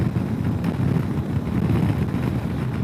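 Steady, roaring wind noise buffets the rider on a 2021 Kawasaki Versys 650 cruising at about 58 mph and 4,000 RPM. It is a constant low rumble that drowns out the engine.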